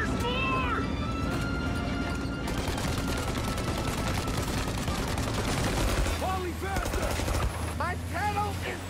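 Thompson submachine gun fire in the Mafia remake, loud sustained bursts of rapid shots with clattering mechanisms and whistling effects, dense and continuous throughout, with game chatter mixed in.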